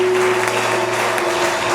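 A church congregation applauds to acclaim the Lord, a loud, dense burst of clapping throughout with a held tone beneath.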